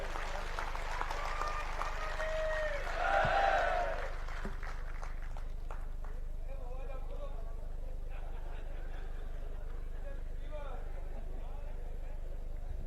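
Applause from the audience at a political victory celebration rally, a broad wash of clapping that swells briefly near the start and then carries on steadily under a loud, echoing voice addressing the crowd.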